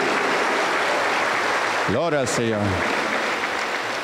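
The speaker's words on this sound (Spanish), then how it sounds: "Aplauso para el Señor Jesús." Congregation in a church applauding, a continuous wash of clapping heard throughout, with a brief spoken phrase over it in the middle.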